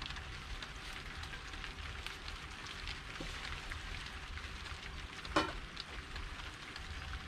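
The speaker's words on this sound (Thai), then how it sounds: "เพราะว่าฝนตกแล้ว" Steady rain falling outdoors over a vegetable garden, a continuous soft hiss and patter with an occasional louder drip or knock, no voices present.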